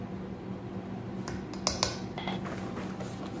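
Puto rice cake batter being mixed after baking powder is added, soft scraping and a few sharp clinks of a utensil against the bowl, brief and close, with quiet room noise around it.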